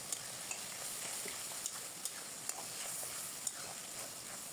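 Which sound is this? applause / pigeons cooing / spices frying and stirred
spices frying and stirred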